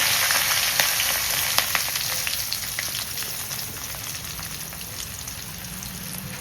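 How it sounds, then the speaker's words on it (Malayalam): Fennel seeds, garlic, ginger and onion frying in leftover oil from earlier frying, a continuous crackling sizzle with scattered sharp pops, steady and close throughout. "വറുത്ത് കോരിയതിൻ്റെ ബാക്കി എണ്ണ ഒഴിച്ചതിന് ശേഷം അതിനകത്ത് പെരിഞ്ചീരകം ഇടുക പെരിഞ്ചീരകം ഇട്ടതിന് ശേഷം വെളുത്തുള്ളി ഇഞ്ചി ഉള്ളി വസ്തുക്കളും എല്ലാം ഇടുക"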